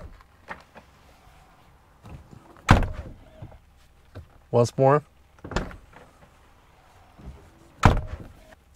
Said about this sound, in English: So let's try the door sound.